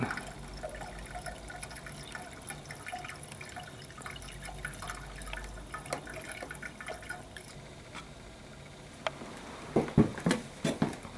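Water is poured into a commercial steam heating boiler through a valve on top, a continuous close trickle and splash that grows into louder gurgling bursts near the end, with no talking.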